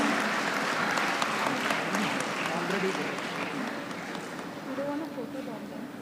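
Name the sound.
convocation audience applause for rank holder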